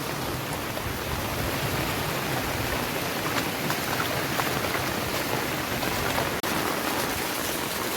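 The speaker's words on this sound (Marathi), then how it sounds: "एवढा पाणी इकडे साचला मित्रांनो का फुल प्रेशरमध्ये पाणी जात आहे दुसऱ्या साईडला" Floodwater at Lakhani rushes under full pressure during torrential rain, a dense, continuous, loud roaring hiss of water that holds steady with no talking over it.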